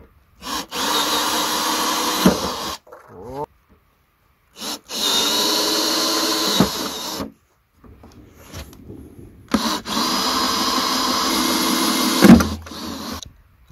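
Power drill boring outdoors at a lakeside garden, three separate bursts of a few seconds each with short pauses between them, loud and close.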